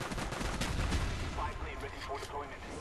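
M1911 pistol with an extended magazine firing in a video game, a dense run of shots blurring into a continuous loud crackle, with a voice talking underneath.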